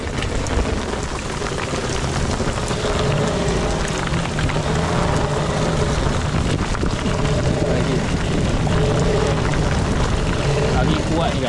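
Strong wind roars and buffets steadily against a small fishing boat on the water, a dense rushing wash with patter like rain, while people talk over it.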